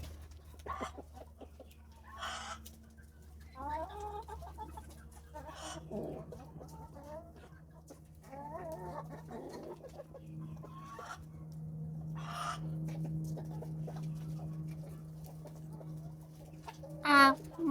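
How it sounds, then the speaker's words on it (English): A rooster on a farm clucks in short bursts through a long stretch, with a brief crow near the end, close and fairly quiet over a low steady hum, with some people talking. "No, that's a rooster."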